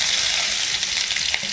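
Onions frying in a pan, a close, loud, steady hissing sizzle that carries through the short stretch without pause.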